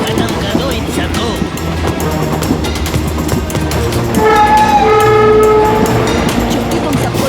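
A cartoon train in Chhota Bheem rumbles loudly and continuously, with a horn sounding partway through. Characters shout and talk over the roar of the wheels.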